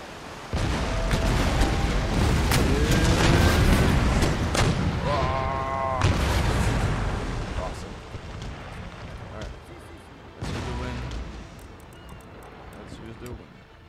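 Galleon broadside cannon fire in the naval battle game Empire Total War: a burst of heavy booms and rumbling blasts, then fading crashes and a later thud, with voices talking over the action.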